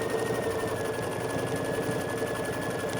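Sewing machine quilting the layers of a hot pad without a walking foot: a steady, fast mechanical whir with rapid needle clatter and a faint high whine, loud and continuous throughout.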